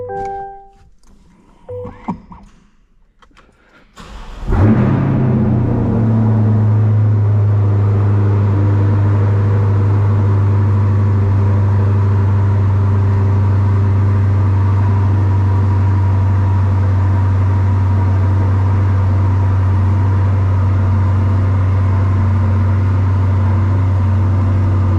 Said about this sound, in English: let's see if this thing will fire up